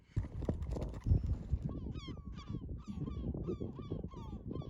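Gulls call on an Arctic hillside, a string of repeated harsh, honking cries in quick succession, fairly faint and distant over low background noise.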